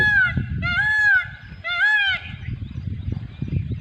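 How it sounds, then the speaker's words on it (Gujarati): Peacocks call near a riverbank in Gujarat with three loud, ringing, honk-like cries in quick succession, followed by low rustling background noise. "મોરલા કિલોર કરી રહ્યા છે"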